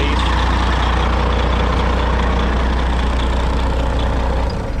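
A cabover truck engine idles steadily close by, a loud, continuous low diesel rumble that holds evenly throughout before easing slightly at the end.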